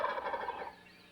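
A wild turkey gobbles once in a rapid, rattling burst that fades out within about a second, heard clearly and alone.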